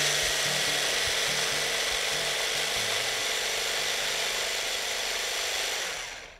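A small food processor purees fresh raspberries with icing sugar, its motor whirring in a loud, steady, continuous drone close by before winding down at the end.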